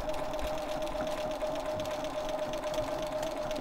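A sewing machine stitches steadily along a quilt seam in a quilt-as-you-go block, a continuous close, even whirring hum with no pauses.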